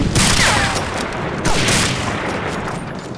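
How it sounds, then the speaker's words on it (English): Grenade blasts and gunfire in Medal of Honor: Allied Assault, a loud broadband boom near the start and another around midway, over continuous busy battle noise. "Leon throws the nade into 3."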